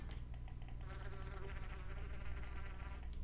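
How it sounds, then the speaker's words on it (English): A bee buzzes steadily and close by in a Minecraft game world, a continuous droning hum over a low background, with no talking. "Is that a wasp or a bee bee?"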